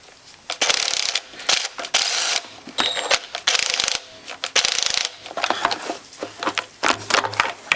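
Ratchet clicking in rapid bursts while a bolt is worked loose on a Kawasaki Brute Force 650/750 IRS ATV motor, close and sharp with short pauses between strokes, sounding alone.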